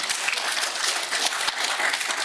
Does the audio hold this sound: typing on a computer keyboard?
no